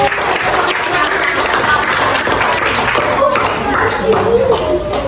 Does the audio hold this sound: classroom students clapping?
yes